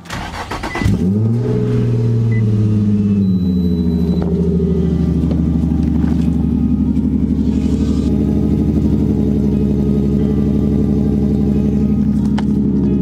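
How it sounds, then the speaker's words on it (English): A BMW E46 engine cranks briefly and catches on a cold start, then settles into a loud, steady idle with a low even rumble and a faint high whine, heard close with no talking. "We're gonna start off with a nice cold start"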